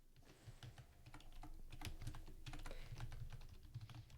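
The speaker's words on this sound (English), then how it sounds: "Typing away" Fingers tap on a computer keyboard in quick, uneven bursts of soft clicks, faint and close, continuing without pause for a few seconds.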